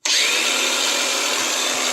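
An angle grinder runs steadily during exhaust removal on a Triumph Spitfire, a loud high whine that starts abruptly and holds at an even pitch for the whole stretch, close and with no talking.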